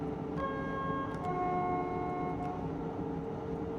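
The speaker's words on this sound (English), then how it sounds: "Horn." A train horn from the Train Simulator game sounds in two overlapping steady tonal blasts, the first starting early and a second, lower-pitched one joining at about a second, both holding for a couple of seconds over a constant rumbling engine drone.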